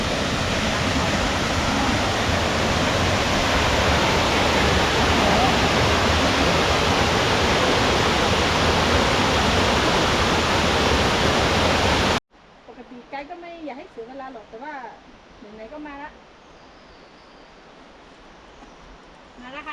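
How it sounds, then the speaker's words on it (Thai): Waterfall on the Kiu Mae Pan nature trail at Doi Inthanon, a loud, steady broadband rush of falling water heard close for about twelve seconds, then cutting away to quieter outdoor sound with people talking. "เดี๋ยวเราจะไปถ่ายน้ำตกให้ดู"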